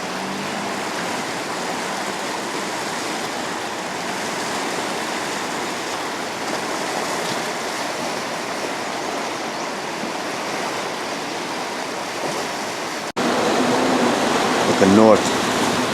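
A swollen, rising river rushing beneath the Gilmartin Street Bridge, heard as a broad, steady roar of flowing water, with a short spoken comment near the end.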